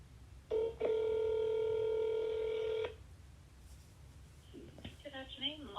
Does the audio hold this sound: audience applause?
no